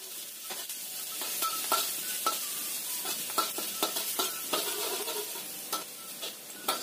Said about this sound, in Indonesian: Kita tumis dulu bawang putihnya